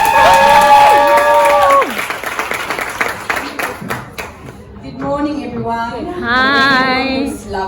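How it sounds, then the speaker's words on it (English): At a natural hair brunch event, an audience claps and cheers, with music and a voice rising over the crowd before the applause swells again near the end. "Please give her a round of applause."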